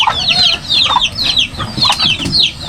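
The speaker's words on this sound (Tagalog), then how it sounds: "ako po muna ay magpapakain po ng mga alagang manok at ng mga pato po" Domestic chickens clucking and calling in quick bursts while being fed on a farm near a fishpond, with ducks kept nearby, a rooster-like crow mixed in, close and busy with no talk.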